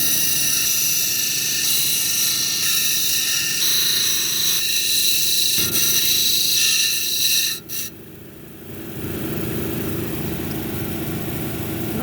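A lapidary grinding wheel shapes a banded amethyst cabochon, a steady loud whirring drone that shifts pitch partway through as the stone meets the wheel, with no voices.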